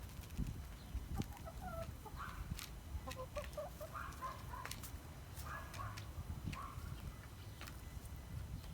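Hens in a village barn at the feeder, giving soft, scattered clucks and short calls close by over a low, steady background murmur.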